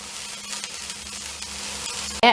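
Okra stir-fry with curry leaves sizzles steadily in a pan as it is mixed, a continuous close frying hiss ending in a brief louder clatter.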